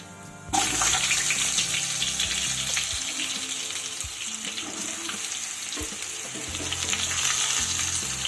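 Whole spices tempering in hot oil in a pan, a sudden loud sizzle bursting in after a quiet start and holding as a dense, steady hiss with occasional clinks, close by.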